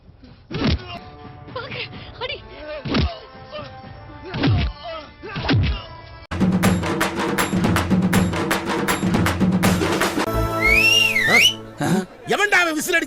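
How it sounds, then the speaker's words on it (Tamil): A person whistles in a few short, rising and falling notes near the end, amid heavy thumps, crashes and noisy voices. "எவன்டா விசில் அடிச்சது?"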